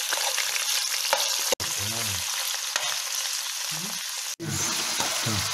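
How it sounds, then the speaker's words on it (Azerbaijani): Chopped onion sizzles in melted butter in a frying pan for a veal and potato dish, a steady loud crackle broken by two brief silent gaps, with occasional stirring scrapes. "İndi sarı yağın içərisinə mən soğan əlavə etmişim."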